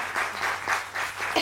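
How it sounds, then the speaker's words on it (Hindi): Studio audience on a morning TV show claps for callers from Mirpur Khas, a short burst of lively, close applause in pulsing waves with no voices. "जबरदस्त तालियां भाई मीरपुर खास के लोगों के लिए।"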